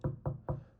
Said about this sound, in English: I was knocking on the wood